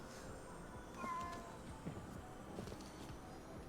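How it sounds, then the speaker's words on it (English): A cat meows in the video game Ghostwire Tokyo, two short faint mews over a steady murmur of ambient background noise. "Hello, kitty."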